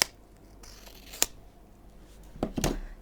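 Folded paper being cut through the middle with scissors: one crisp snip near the start, then a short cluster of snips toward the end, quiet and close with no talking.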